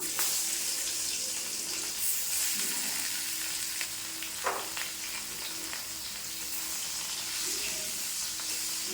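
Fish frying in a pan for a mango-and-potato fish curry sizzles steadily and fairly loudly throughout, with a brief clatter partway through and no talking.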